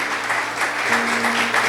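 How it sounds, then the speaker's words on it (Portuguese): Church congregation applauding during a communion service, sustained loud clapping from many people with a faint low hum underneath. "Vamos aplaudir a Deus pela vida deles."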